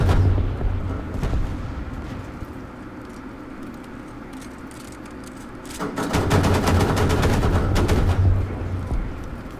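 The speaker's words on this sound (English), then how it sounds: "Somebody's shooting at me." Gunfire in War Thunder during a battle with a German Sd.Kfz.222 armored car: rapid machine-gun bursts and shots rattling through a low engine rumble, growing louder and denser in the final few seconds.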